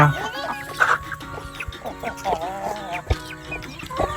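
Hens cluck in short bursts and trills close by, with people talking and calling out over and between the clucks.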